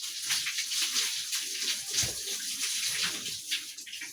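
Ripe fruit being washed under running tap water, a steady close rush of flowing water with small splashes as it is handled, no speech.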